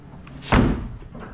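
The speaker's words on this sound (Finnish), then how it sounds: "Pääsee siitä avaan oven." A car door on a race car shuts with a single solid slam, heard close after faint handling sounds and followed by a brief rattle.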